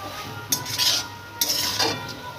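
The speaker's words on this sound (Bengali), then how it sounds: "আবার একটু নাড়াচাড়া করে নিচ্ছি" A utensil stirs cooked vegetables in a pot, making two short bursts of scraping and clinking against the metal over a faint background sizzle.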